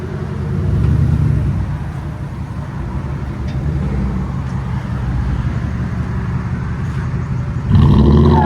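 A Toyota Tundra 5.7L V8 with a 3-inch exhaust rumbles as it pulls away, a deep steady drone swelling near the start and surging louder again at the end, heard from outside with no talking.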